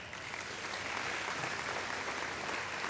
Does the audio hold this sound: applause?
yes